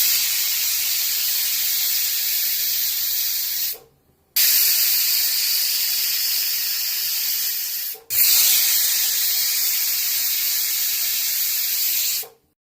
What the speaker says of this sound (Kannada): ಸೊ ಈಗ ನೀವು ನೋಡ್ತಾ ಇದ್ದೀರಾ ಕುಕ್ಕರ್ ಬಿಟ್ಟಿದೆ.